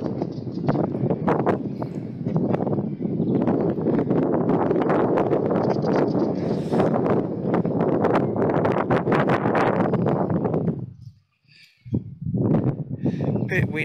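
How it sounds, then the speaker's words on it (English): Gusty wind roars against the microphone in Swan Reach Cemetery, South Australia, for most of the clip, briefly dropping away before buffeting resumes; a voice talks beneath it. "Bit windy here, guys,"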